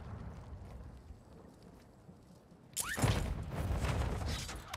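Grenade blast in Call of Duty Warzone 2.0, a sudden broadband burst near the middle followed by a rumbling, debris-filled tail that stays loud to the end after a quieter stretch of ambient game noise.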